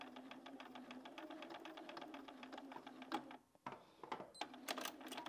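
A sewing machine reverse stitches on a cushion with a quick, rhythmic needle rattle, pauses for a short quiet gap, then resumes with more stitching, faint and close.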